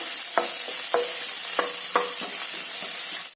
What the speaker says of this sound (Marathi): मिरची आपल्या आवडीनुसार घ्यायचं छानसं परतून घ्यायचं